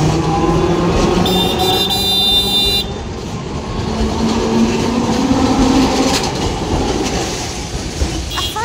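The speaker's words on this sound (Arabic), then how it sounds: "نشوف الترام الاول لما يعدي" A tram rumbles past close by in Bakos, Alexandria, steady rolling clatter with a brief high squeal early on, loud throughout before easing slightly.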